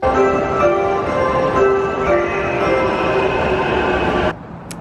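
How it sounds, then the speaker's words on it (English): Loud steady rumble of a Tokyo subway train in motion, a continuous droning roar with faint tonal whine, cutting off abruptly near the end. "I got the subway over to Odaiba"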